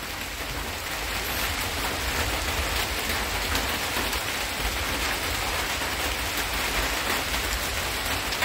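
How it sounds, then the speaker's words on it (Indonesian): Steady rain pours down in a rural village setting, a dense, even hiss that holds unbroken for the whole stretch with no voices over it. "Tapi hujan gini nih."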